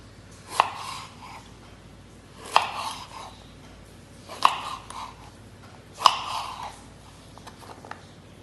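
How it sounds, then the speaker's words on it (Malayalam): Four sharp knife chops through mango on a cutting board, spaced about two seconds apart, each with a brief scraping tail; close and fairly loud, no talking. "ഇപ്പം ഈ മാങ്ങ അരിയേണ്ട"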